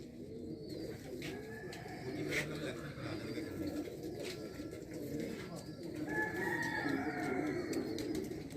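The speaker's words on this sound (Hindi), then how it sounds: "ये सब उड़ने वाले कबूतर है।" Flying pigeons coo softly and repeatedly in a busy loft, with soft rustling and flutters mixed into a low, continuous background murmur.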